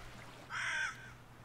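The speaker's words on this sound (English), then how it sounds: "The bird noise freaked me out for a second." A single harsh crow caw from the video game Salt and Sanctuary rings out, loud and close, lasting about half a second against a quiet, faintly humming background.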